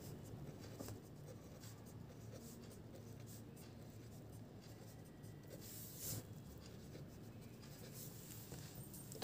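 Pen or marker writing numbers below a number line on a board or page during a fractions lesson, with quiet scratchy strokes in short bursts and soft rubbing, faint and close, with no talking.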